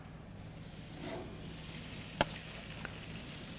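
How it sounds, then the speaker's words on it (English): A steady, soft sizzle hisses from 10-ounce steaks on a barbecue grill at about 700 degrees, with a sharp click and a few small pops partway through. "So you're gonna hear the sizzle."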